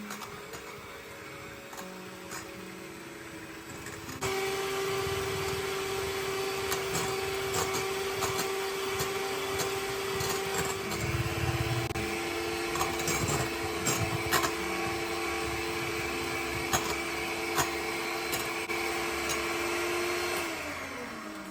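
An electric hand mixer whirs steadily as it beats eggs with sugar for a syrup-soaked revani sponge cake, its motor tone jumping louder after a few seconds and holding a constant drone, with faint scraping against the bowl and no talking.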